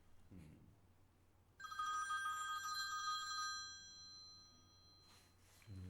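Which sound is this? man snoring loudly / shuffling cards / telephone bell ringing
telephone bell ringing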